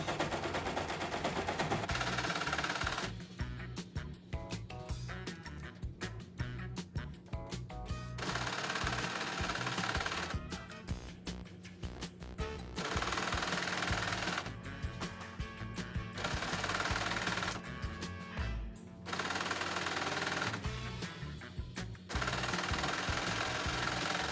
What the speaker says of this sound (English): Simply by lining up my lines with the seam and stitching around the edge